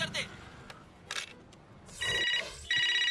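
Telephone ringing in a comedy scene, a bright electronic trill in two bursts with short pauses between them, after some scattered background noises.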